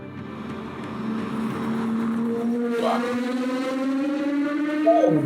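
A GMA T50 V12 engine revving hard, the pitch climbing steadily and shifting upward, loud and close throughout.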